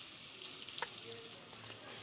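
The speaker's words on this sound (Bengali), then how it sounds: "তেলটা গরম হয়ে গেছে, এবার মাছগুলো তেলের ওপর ছেড়ে দেবো।" Pangas and tengra fish fry in hot oil, a faint, steady hiss and sizzle that fills the short moment with a soft crackle partway through.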